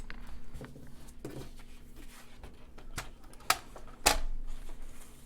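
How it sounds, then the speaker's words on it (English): A paper trimmer slicing through patterned craft paper, with soft sliding clicks and two sharp cutting snaps near the end, close and otherwise quiet. "I'm just going to use my paper trimmer"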